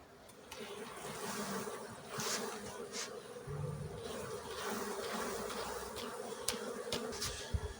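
Honeybees buzzing around an open hive, a steady close drone with occasional louder passes of individual bees and handling knocks, no talk.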